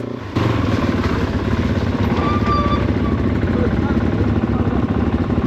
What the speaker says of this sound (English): I had a go at flying my new drone at the cafe